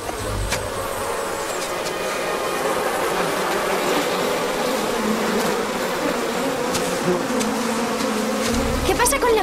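Bees buzz steadily and loudly close by throughout, a dense continuous drone around a hive being smoked for honey, with no talking over it.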